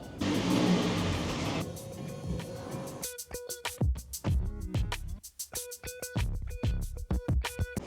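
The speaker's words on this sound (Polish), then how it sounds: "Jedziemy na przegląd samochodu." A car drives into a vehicle inspection station: broad, rushing road and engine noise at first, then a run of sharp engine revs and bursts close by, with no talking.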